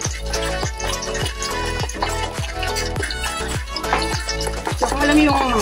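A fish mixture with egg and baking powder being stirred in a bowl, giving a steady run of repeated wet scraping strokes at an even rhythm, close and clear, with someone talking over it.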